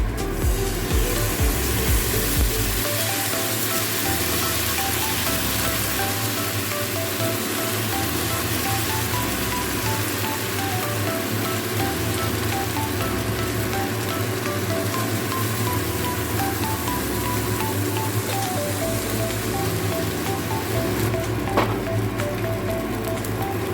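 Rava dosa batter sizzles on a hot, oil-brushed frying pan, a steady dense hiss like light rain that runs unbroken and close, with a few soft clicks near the start.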